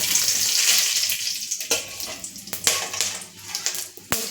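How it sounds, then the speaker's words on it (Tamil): Green chillies hit hot oil in a pan for temple-style pulihora, sending up a loud hissing sizzle that fades into scattered crackles and sharp pops, close and with no voices. "நான் எடுத்து வச்சு பச்சை மிளகா சேர்த்துக்க போகிறேன். தெரிக்கும் கொஞ்சம் தூரமாக"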